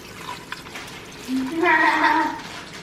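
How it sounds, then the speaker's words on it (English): Water poured over a layer of dried bow tie pasta inside an Instant Pot, a short steady pour with a rising liquid splash that builds and holds near the mic for over a second. "You just wanna pour that on top in an even layer, and then pour over 2 cups of water."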